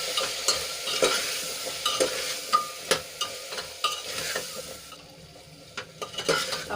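A spoon stirs spices such as garam masala and salt into hot oil in a pan for a Gujarati meal. Close, repeated scraping strokes ride over a steady, gentle sizzle, with no talking.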